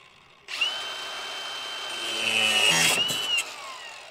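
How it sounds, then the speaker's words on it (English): A power grinder cuts into the metal pedal of an abandoned Toyota Hilux: the motor starts abruptly, whines steadily with a bright screeching edge that rises as it bites, then stops, leaving a short fading tail. "For now, I'm actually just gonna grind off a couple inches just so they're not touching and I have a little bit of clearance."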